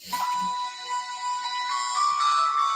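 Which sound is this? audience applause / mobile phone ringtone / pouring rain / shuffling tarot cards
mobile phone ringtone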